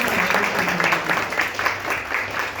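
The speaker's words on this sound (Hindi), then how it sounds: "आप तालियां बजा सकते हैं।" Audience applause at a Hindi-language poetry evening, a steady crowd clapping texture that holds evenly for a few seconds at moderate loudness without pauses.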